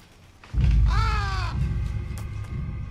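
A crow calls inside a house, one harsh, descending caw standing out near and loud over a low rumbling background.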